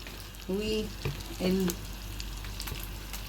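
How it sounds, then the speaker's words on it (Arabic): Minced onion dropped into hot oil and butter in a pan, a close steady sizzle with stirring scrapes. A voice talks briefly over it. "بمجرد ما الزيت والزبده يميكسوا مع بعضهم هنزل عليهم بالايه، بالبصلايه المفرومه"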